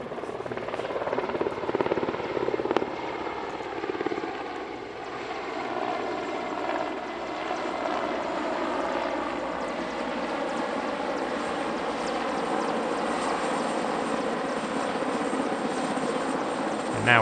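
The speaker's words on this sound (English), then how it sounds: "A trio of Mil-8s, the lead aircraft carrying unguided rocket pods on its outrigger pylons." Three Mil-8 helicopters pass over an airshow, their rotors and engines making a loud, steady drone that holds for the whole stretch with only slight swells, and no voices over it.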